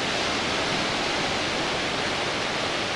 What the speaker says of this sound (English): We have waves.